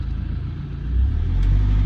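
A Land Rover Defender 90 TDCi soft top drives along, its diesel engine a low rumble that swells steadily as it gains speed, with no talk over it.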